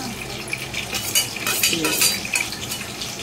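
A green chili roasts in a few spoonfuls of hot oil in a pan, with a soft steady sizzle under close metallic scrapes and clinks of a spoon stirring.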